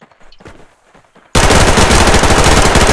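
Sustained automatic machine-gun fire from the shooter game Survarium, loud and rapid, bursting in abruptly after a second of quiet game sounds and continuing without pause.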